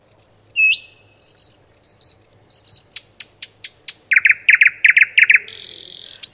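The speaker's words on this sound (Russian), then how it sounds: "Соловей, конечно, это соловей, соловья все узнают." A nightingale sings a varied, close, clear song of whistled phrases, then rapid repeated chirping notes, ending in a sustained trill.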